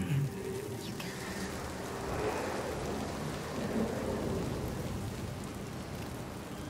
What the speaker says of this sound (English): He brings the storms with him.